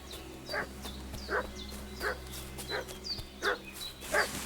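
A dog barks in the medieval game Kingdom Come Deliverance 2, sounding five or six sharp, evenly spaced barks at mid distance over a steady low ambient hum.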